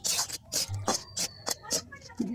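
Cumin and chili for a prawn curry are ground by hand on a grinding stone in quick, rhythmic rubbing strokes, about eight close scrapes in a row.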